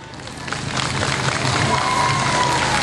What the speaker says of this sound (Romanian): haideți să vedem cât de tare puteți să aplaudați